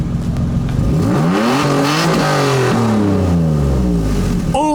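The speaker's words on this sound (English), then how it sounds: "can you do me a favor and give some revs?" An Infiniti G35 Coupe engine is revved up and down several times close by, its pitch rising and falling in repeated sweeps, loud and alone before a brief voice at the end.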